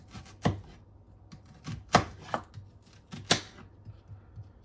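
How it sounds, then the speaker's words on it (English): A knife chops an onion coarsely on a cutting board with about a dozen irregular, close thuds, some sharper and louder than others, over a quiet background. "Go ahead and do an onion here."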